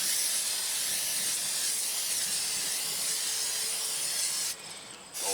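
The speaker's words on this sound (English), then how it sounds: "This is a butter flavored no stick spray." Butter-flavored non-stick cooking spray hisses steadily from an aerosol can, a loud close spray sustained for several seconds before it cuts off near the end.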